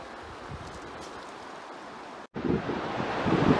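Clear snowmelt water rushes steadily down a mountain stream along a trail in Sequoia and Kings Canyon, a continuous broadband wash heard close, briefly cutting out before resuming slightly louder.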